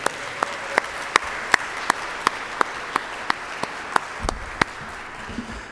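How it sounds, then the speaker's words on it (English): Conference audience applauding the organizers on the final day, sparse individual claps ringing out one by one at a regular pace over a soft background of room noise. "Can we give them a round of applause?"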